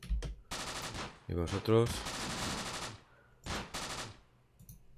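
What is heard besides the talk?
machine gun firing in the video game Close Combat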